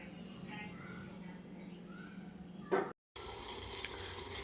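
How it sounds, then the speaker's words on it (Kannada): Ginger coffee with a pinch of turmeric powder boils in a pot, giving a steady close bubbling hiss that cuts out briefly near the end and then resumes. "ನೋಡಿ ಹೆಂಗೆ ಕುದೀತಾ ಇದೆ."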